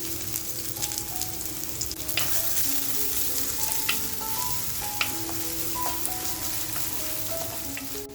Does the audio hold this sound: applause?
no